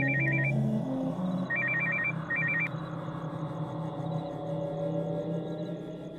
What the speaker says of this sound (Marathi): कोणाचा फोन हा?